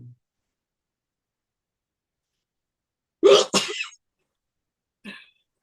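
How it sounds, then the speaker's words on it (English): A single sharp sneeze bursts out after a few seconds of silence, followed by a faint brief sniff or breath. "Uh-oh, go sneeze again."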